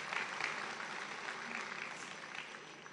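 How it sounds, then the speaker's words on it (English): Audience at a live football event tied to AFCON 2025 in Morocco clapping hands for a man, a steady, dense wash of applause heard from a distance, faint and even throughout. "Can we clap hands for him?"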